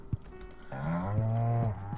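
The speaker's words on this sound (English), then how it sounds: "So, hello milk cows." Farm cows in the video game Stardew Valley give a sustained, tonal moo-like call over soft clicks of a keyboard, with no talking.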